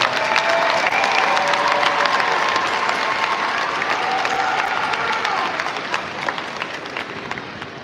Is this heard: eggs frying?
no